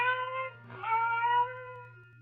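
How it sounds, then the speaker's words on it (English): One cat gives a single drawn-out, wavering meow, faint and close against a low steady hum, with the cry rising in the middle before it fades. "the silence was broken by the faint crying of one cat"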